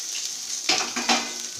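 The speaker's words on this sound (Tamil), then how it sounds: "அடுத்து வெங்காயத்தை போடவும். போட்டு நன்றாக சிவக்கும்படி வதக்கவும்." Onions sizzle and fry in a pan for chicken pallipalayam, with a steady hiss and two or three close scraping stirs of a spoon over the frying, and no talking.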